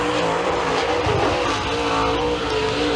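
A super late model race car's engine roars steadily through qualifying at Thunder Mountain Speedway, a loud sustained drone with shifting pitch as the car passes.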